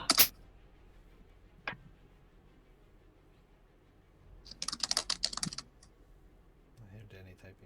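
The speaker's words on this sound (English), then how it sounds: "I hear Danny typing." Quick bursts of keyboard typing by Danny, a short flurry near the start and a denser run in the middle, with a bit of talk toward the end and quiet gaps between.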